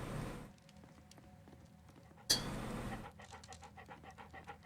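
A dog pants steadily in the Sherlock Holmes: Crimes and Punishments video game, quick rhythmic breaths with a sharp knock partway through and light pattering steps after, fairly quiet and without talk.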